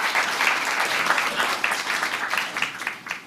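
An audience applauding at a live Bill of Rights read-along event: a sustained wash of many hands clapping, close and steady, tapering slightly at the end.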